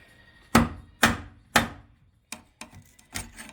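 A blade strikes and scrapes hard at sound deadening frozen with dry ice, in a series of about seven sharp, close hits, three heavy ones followed by quicker, lighter jabs.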